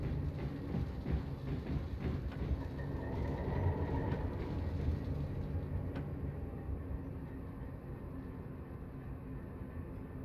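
A freight train rolls steadily past in Train Simulator on the Seddin freight route in Germany, a continuous loud low rumble and rattle of wagons holding throughout.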